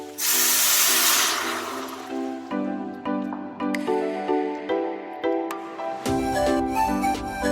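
A burst of hissing steam and sizzle as boiling water is poured into a pan of orzo, followed by repeated clattering knocks and a bubbling tonal hum.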